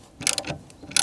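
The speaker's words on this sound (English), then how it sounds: "just gotta kind of tighten some of these bolts" Ratchet tightening bolts on an old picnic table, a few quick close clicking bursts separated by short pauses.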